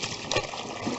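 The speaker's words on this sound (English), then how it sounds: "So I'm going to pour this bucket in there." Dirty water from a bucket splashes and gushes steadily into a kitchen sink for about a second, a broad wet rush with a brief louder surge near the start.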